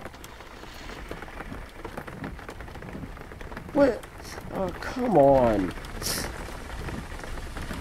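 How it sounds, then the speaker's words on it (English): Steady rain falls in the driving game Jalopy, a constant hiss under the whole stretch while someone speaks briefly and reacts with frustration partway through. "I'm back out in the rain again."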